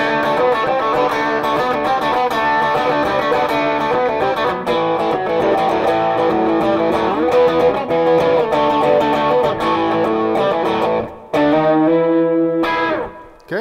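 Electric guitar played through a Marshall JVM410 amplifier on the crunch green channel, close and loud with mildly distorted chords and riffs ringing for over ten seconds before stopping abruptly.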